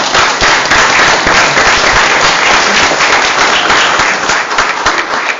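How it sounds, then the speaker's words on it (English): An audience at a city council meeting bursts into loud, close applause, a dense wash of clapping with sharp individual claps that continues throughout and eases a little toward the end. "Oh, I'm gonna give him a round of applause for that."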